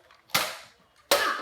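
A Nerf toy gun fires twice in quick succession, each shot a sharp close pop followed by a short fading rattle, with no voices.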